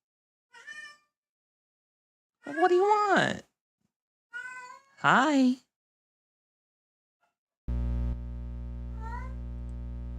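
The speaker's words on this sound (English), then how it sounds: "What are you meowing for?" A cat meows indoors in several separate drawn-out calls, fairly close, with a person speaking briefly between them and a buzzing electronic tone near the end.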